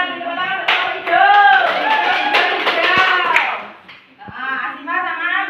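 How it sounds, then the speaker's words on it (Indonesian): A group at a training session claps for a team, scattered hand claps mixed with loud overlapping voices and chatter, then another short round of clapping and talk. "kita beri tepuk tangan untuk hijau"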